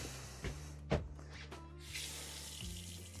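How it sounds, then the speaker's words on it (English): A tap on a boat runs cold freshwater into a sink, a soft steady splash with a few knocks and clunks from handling the fittings, close by and quiet. "tap's working cold"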